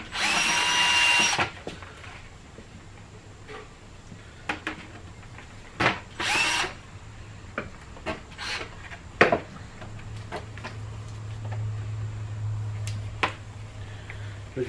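A power drill fitted with a step bit bores through a bucket for brass fittings in a few short bursts, with scraping, rubbing and handling noises between them and a low hum running underneath, close and fairly loud.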